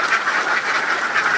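A flock of laying ducks at feeding time keeps up a dense, loud, continuous quacking chatter close by.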